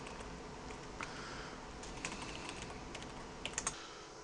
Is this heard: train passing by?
no